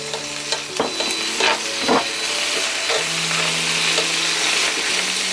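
Ham sizzles loudly in a pan alongside browning kale, with steady close frying hiss, a few spoon scrapes and clatters early on, and a faint hum in the background.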